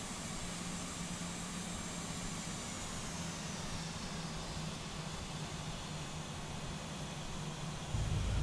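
An aircraft on final approach in a flight simulator video game gives off a steady, faint engine drone with a hissy, noise-like wash, constant throughout and alone.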